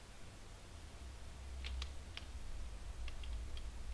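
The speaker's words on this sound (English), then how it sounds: "The clock noise is gone." A faint, soft ticking from the countdown clock timer in the video game Mini Thief sounds as a handful of scattered ticks over a quiet low background hum.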